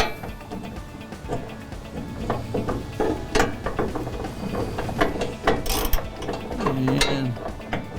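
A ratchet wrench tightens a bolt on a FASS fuel pump skid plate mount, its pawl clicking in quick bursts of up-close metallic ticks over about eight seconds with no talking.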